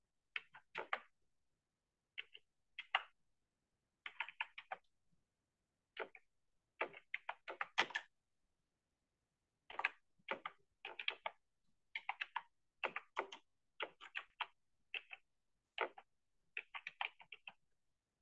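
Steady bursts of computer keyboard typing, clustered keystroke runs with short pauses, close and clear with no talking, as a description is typed in while building a website.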